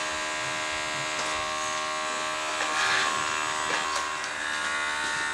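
A toy vacuum cleaner runs with a steady, thin electric buzz that is close and continuous, with slight swells in loudness and no voices over it.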